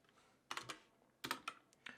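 Typing code on a computer keyboard, heard as short bursts of quick key clicks in three clusters, close and fairly quiet, with no talk.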